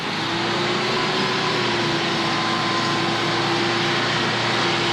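A fire department truck engine drones steadily while driving, a loud continuous rumble with a bus-like whine and a faint tonal hum, heard from inside the cab with no speech.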